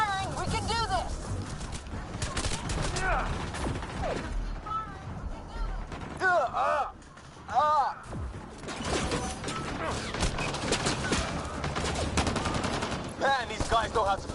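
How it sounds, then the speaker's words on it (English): Combat gunfire in the sci-fi shooter Mass Effect Andromeda, dense rapid shots and bursts layered with whirring weapon effects and chirping tones, continuous and loud, with voices speaking over it. "Just keep firing, we can do this!"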